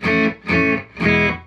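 Electric guitar played through a Fender Deluxe Reverb Tone Master amp with reverb on, three loud sustained distorted chord hits with short gaps between them.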